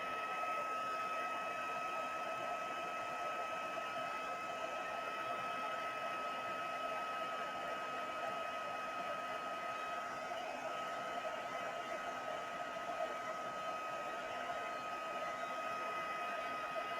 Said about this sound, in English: This is just a heat tool,